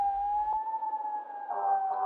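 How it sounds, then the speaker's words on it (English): A steady, wailing siren holds a sustained tone throughout, loud and continuous, with a second tone joining near the end and no voices over it. "Let me just move away from these sirens."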